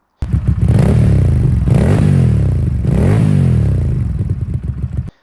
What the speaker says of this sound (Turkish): Egzoz sesi bu arada gerçekten çok tatlı.